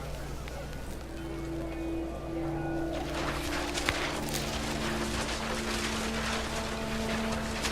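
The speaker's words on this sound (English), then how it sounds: "The rain came down in buckets then" Heavy rain pours down steadily in the video game What Remains of Edith Finch, a dense continuous wash of hiss with a low steady hum beneath, growing fuller partway through.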